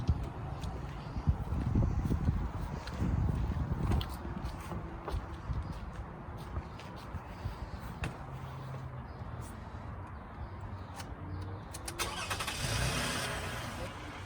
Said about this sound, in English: And then we're gonna start up the car to make sure that works.